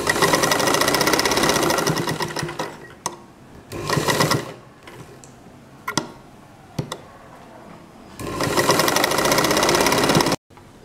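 Sewing machine stitching a double-layer cloth face mask, loud bursts of rapid mechanical whirring that start and stop several times, with short clicks in the pauses between runs.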